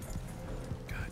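Horse hooves clip-clop steadily in Red Dead Online, a near, rhythmic run of muffled beats over continuous game ambience, with a brief whinny-like tone near the end.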